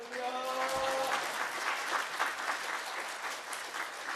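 A church congregation at a revival service claps together in sustained, dense applause that fills the room steadily from start to finish, with a brief tonal swell near the opening.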